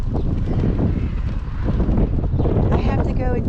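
Gale force wind roars and buffets the microphone during a morning bird feeding outdoors, a loud continuous rumble that surges and dips, with some faint background sounds mixed in.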